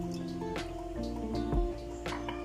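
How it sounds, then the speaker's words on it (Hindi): Water poured from a cup into a cooking pan while making jelly for a custard cake, a soft splashing trickle with a few drips and one fuller gush midway, close by and moderately quiet. "इसमें हम ये एक कप पानी डाल देते हैं।"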